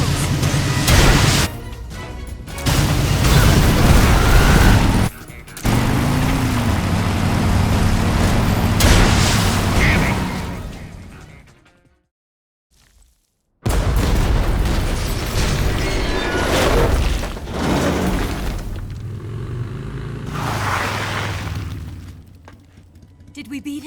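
Missiles blast in Metal Gear Solid Delta: Snake Eater, heavy booming explosions and shattering debris in loud bursts separated by short pauses, with voices talking among the in-game action.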